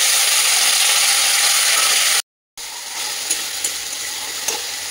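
Ground spice paste frying in a pan with onions and green chillies for a cauliflower, potato and egg curry gives a loud, dense sizzle that drops out briefly, then returns softer with scattered small pops.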